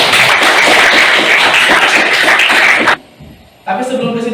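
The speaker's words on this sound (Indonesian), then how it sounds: "Tepuk tangan dulu untuk" Classroom applause from students in a school lesson, dense and steady clapping for about three seconds before cutting off abruptly, followed by a brief lull and then a teacher's voice.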